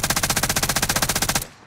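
Automatic gunfire in a video game, a rapid, evenly spaced string of about twenty shots in one burst that cuts off abruptly, fairly close and loud, with no talking.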